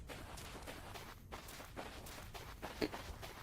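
Footsteps in the video game Vintage Story with a footstep mod, a quiet run of soft repeated steps at a walking pace over faint background noise.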